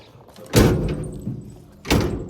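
Door of a vintage 1954 Chevy 3100 truck being pushed shut during a weather seal replacement: two heavy thuds about a second and a half apart, close and loud, the latter not latching fully.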